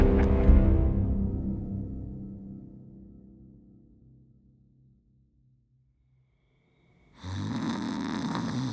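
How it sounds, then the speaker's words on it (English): A person snores in sleep with one loud, rough snore that slowly fades over several seconds, followed by a silent gap and then a sudden burst of broad noise. "That boy can snore through a hurricane."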